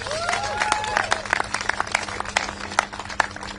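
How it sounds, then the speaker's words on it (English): Applause at a public event where the Australian Prime Minister meets families over the under-16 social media ban, with dense clapping running throughout, voices and cheers mixed in, and fairly loud and steady. "Flossie, another round of applause"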